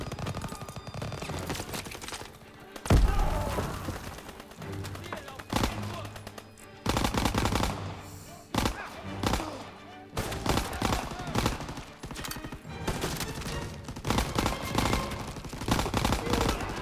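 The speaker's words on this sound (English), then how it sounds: "Enemy machine gun." Bursts of machine gun fire in a World War II shooter game, rapid rattling volleys and single gunshots in irregular clusters with short pauses between them, loud and up close, mixed with occasional voices.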